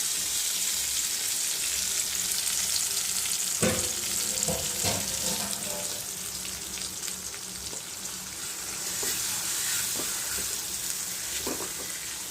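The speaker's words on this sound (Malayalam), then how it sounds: "ചതച്ചത് ഇഞ്ചി ചതച്ചത് വെളുത്തുള്ളി ചതച്ചത് പിന്നെ കറിവേപ്പില ഇതെല്ലാം മൂത്ത് വന്നിട്ടുണ്ട്" Crushed ginger, garlic, curry leaves and a chilli and turmeric paste fry in a pan with a steady close hiss, punctuated by a few stirring clatters and scrapes, no voices.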